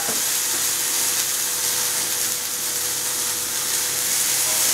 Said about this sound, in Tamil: தேங்காவை கொஞ்சம் போட்டு லேசாக வதக்கிக்கிட்டு இந்த சுண்டலை சேர்க்குறேன்